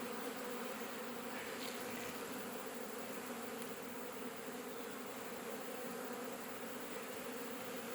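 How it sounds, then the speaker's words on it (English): Dense, steady buzzing of many bees inside a hive, continuous and fairly close, a thick droning hum with no gaps throughout. "If only to see how many bees are in there."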